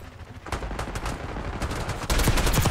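Gunfire in Black Ops 6 hardcore multiplayer: rapid, close shots crackle in dense, uneven bursts, then grow louder and heavier toward the end.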